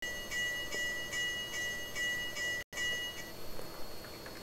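A locomotive 4449 bell in the video game Trainz 2019 rings in an even, repeating rhythm over a low rumbling engine drone, clanging steadily before stopping partway.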